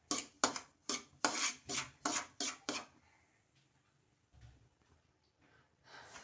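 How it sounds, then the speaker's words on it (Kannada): Semolina stir-fried in ghee in a pan, with a quick series of sharp scraping and clinking strokes of a spoon against metal, then quieter faint stirring and occasional soft knocks. "ಆ ರವೆ ಇದರಲ್ಲಿ ಚೆನ್ನಾಗಿ ಈ ರೀತಿ ಫ್ರೈ ಮಾಡ್ಕೊತಿದ್ದೀನಿ"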